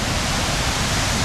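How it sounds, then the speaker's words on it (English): A big rainforest waterfall in Costa Rica roars as a dense, steady wash of broadband noise, loud and unbroken throughout. "That is a big waterfall right there."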